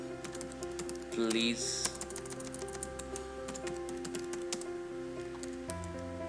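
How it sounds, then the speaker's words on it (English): A computer keyboard clicks in quick irregular bursts of keystrokes as a comment is typed, faint and close, with a person speaking softly over the tapping. "I will type in a comment"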